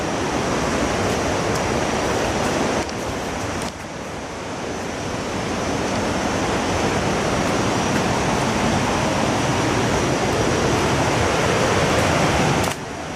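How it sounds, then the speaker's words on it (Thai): Pha Kluai Mai waterfall in Khao Yai roars continuously close by, a thick, steady wash of noise that dips briefly before swelling back, with no talking. "ในที่สุดเราก็ มาถึงน้ำตกผากล้วยไม้แล้วครับ"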